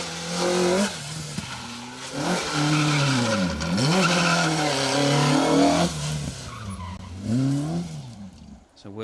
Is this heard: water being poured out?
no